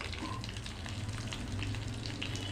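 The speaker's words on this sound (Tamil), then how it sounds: "கடலைப்பருப்பும் பொன்னிறமாக வறுத்து எடுத்துக்கலாம்" Urad dal, chana dal, garlic and ginger fry in a pan with a steady, close sizzle and crackle, with no talk.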